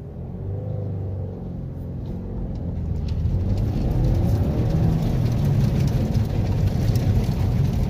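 A manual-transmission car launching quickly from a stop, its engine rumbling low and building in loudness after a few seconds into a steady, heavier drone.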